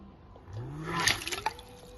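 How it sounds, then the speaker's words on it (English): A SHYSKY DC50K-24160S 24VDC brushless micro water pump with 14mm ports pumps water, giving a close watery gurgling and splashing with a faint motor tone rising under it, busiest midway before tapering. "We place the pump back into the normal water pumping again."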